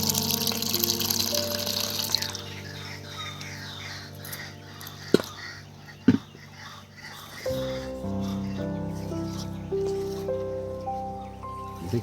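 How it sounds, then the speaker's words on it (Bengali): Water poured into flour in a bowl for egg paratha dough, a steady gushing trickle at first that then gives way to softer splashes and bowl clatter, with two sharp knocks midway. "এবার দিয়ে দেবো বন্ধুরা নর্মাল জল"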